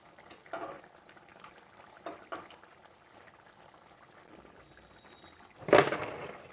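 Rice tipped into a pot of boiling water for chicken biryani makes a sudden loud, brief rushing pour near the end, after a quiet stretch with a few soft kitchen knocks.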